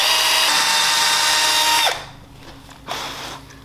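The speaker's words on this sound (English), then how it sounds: "You might want to go with a smaller drill bit." A high-pitched power drill with a small bit whines at full speed for almost two seconds, then winds down, followed by a brief second burst.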